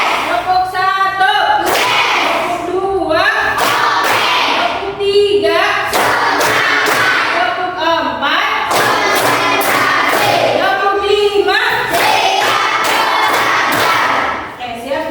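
Schoolchildren in a classroom clap together in a rhythmic chant, with bursts of claps and loud children's voices shouting along close by throughout.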